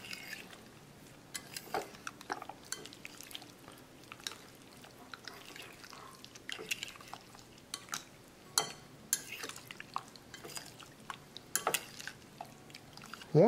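Catfish pieces cut into one-inch chunks get mixed in a marinade in a bowl: soft wet squelches and scattered clicks of utensil against the dish, quiet and irregular, with no talking.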